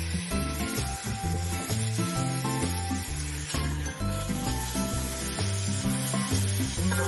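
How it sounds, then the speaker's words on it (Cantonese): Pork leg bones fry in hot oil with ginger, giving a steady sizzle that sits under loud background music throughout. "首先用熱油煎一煎香啲筒骨"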